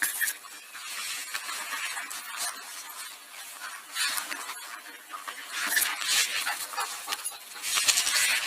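Police canine from the Cedar Rapids Police during a yard search, giving high-pitched squeals and whimpers in an uneven, near stream, loud in bursts over a hissy background with no speech.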